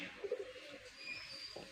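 Soft cooing of pigeons or doves, a few low murmured calls close by against a quiet background hiss.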